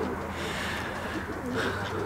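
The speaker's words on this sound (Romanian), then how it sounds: "Nu am știut că o să vă găsim aici porumbei" Pigeons cooing outdoors near a pond with ducks and geese in Albuquerque, New Mexico, soft low coos recurring against a steady background murmur of ambient noise and faint voices.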